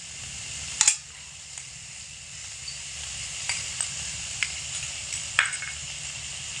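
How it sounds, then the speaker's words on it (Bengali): Poppy seed paste ground with water goes into hot oil in a pan for cabbage paturi, giving a soft, steady sizzle with a few light spatula clicks and one sharper knock near the start. "তো প্রথমে পোস্ত বাটাটা দিচ্ছি।"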